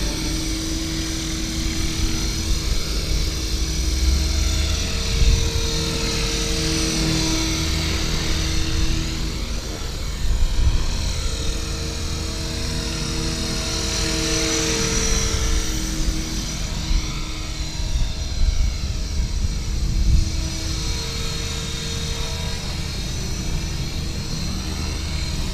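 An HK 450 RC helicopter's rotor spins at high throttle with negative pitch, giving a steady, loud, close whine and buzz that holds for the whole stretch with slight swells.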